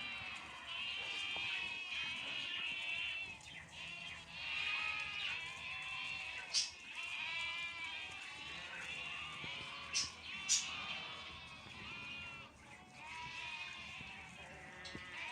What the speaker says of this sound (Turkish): Annelerine kavuşamayan kuzucuklar içeriden bağırıyor. Anneler dışarıdan bağırıyor.